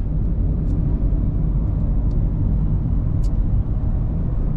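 Car interior at Palma airport in Mallorca as the vehicle pulls in down toward the arrivals lane, a constant low road and engine rumble with a few faint ticks, no talking.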